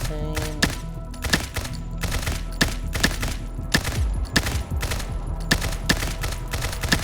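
Rapid bursts of gunfire hit targets on a shooting range in the Combat Master video game, a dense rhythm of sharp loud reports and thuds in quick succession.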